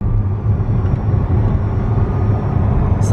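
McLaren Artura sports car on the move, a steady loud engine and road drone sustained throughout with no talk.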